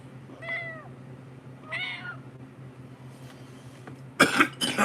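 A person imitates a cat with two short meows, each rising then falling, followed by a raspy throat-clearing cough at the end.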